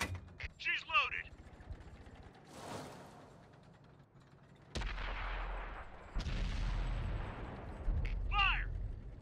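Lorraine 155 mle. 50 artillery gun firing in World of Tanks, a heavy booming blast followed by a long rumbling tail, with mechanical clanks and a voice heard around the shot.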